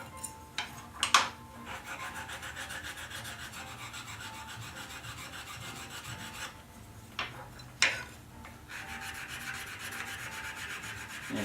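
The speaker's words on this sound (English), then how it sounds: "Remember, Wyatt, what you don't want to have happen is somebody snag their finger and get a splinter because you didn't sand this down well" Hand sanding of wooden kitchen tongs, a steady, close scratchy rasp that keeps going with short pauses and a few louder scrapes, no talking.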